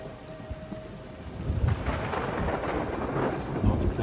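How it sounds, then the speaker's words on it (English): In Everybody's Gone To The Rapture, a thunderstorm sweeps in: steady rain patters on surfaces while deep rolls of thunder swell and rumble, loud and enveloping. "The storm."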